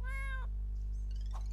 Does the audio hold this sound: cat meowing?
yes